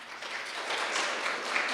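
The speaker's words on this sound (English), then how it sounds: "so a round of applause for them" A short round of applause from an assembly audience at a live international meeting, a soft, steady wash of clapping hands heard from a distance.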